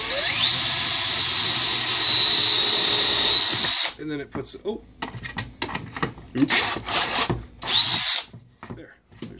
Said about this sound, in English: So we're just going to drill a hole here,